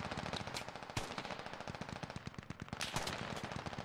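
Rapid automatic gunfire from a video game automatic rifle, a dense stream of close, loud bursts with a few sharper heavy blasts, continuous through the whole stretch.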